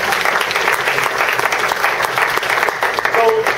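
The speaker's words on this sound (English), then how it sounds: "So, another round of applause for Mike." Audience applause for a speaker at a talk, a steady dense patter of many hands clapping throughout, loud and close, with no voices over it.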